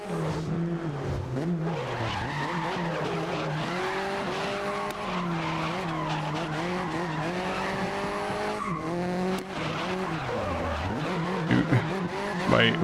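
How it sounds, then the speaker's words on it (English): Racing cars' tires screech through corners in GRID (2019), long whining squeals that rise and bend over a constant roaring engine, with brief bumps and clatter near the end. "By hearing the tires screech like this"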